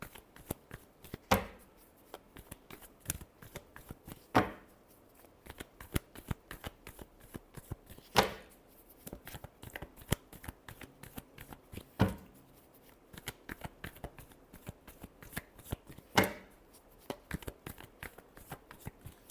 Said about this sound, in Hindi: Last shuffle, 7 of wands.